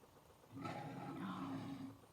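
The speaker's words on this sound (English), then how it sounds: "Did you guess right? That's the lion." A lion lets out a single deep, rumbling roar that swells and fades over about a second and a half, heard alone at moderate volume.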